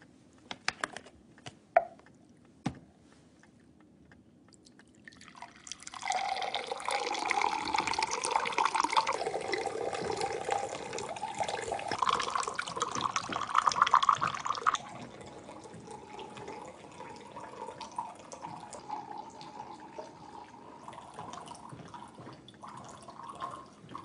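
Water is poured steadily into a glass or cup for several seconds, a bright splashing stream that then tapers off, preceded by a few sharp clicks and knocks in an otherwise quiet room, with no voices.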